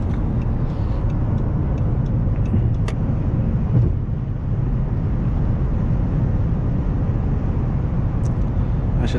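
A 2013 Chrysler 300 Touring with a 305-horsepower engine accelerates on the road, a low, steady engine roar with road rumble heard from inside the cabin and a few faint clicks, and no clear talk.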